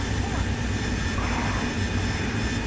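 Harrier jet engine in a flight simulator game, a steady, dense roar that holds constant throughout.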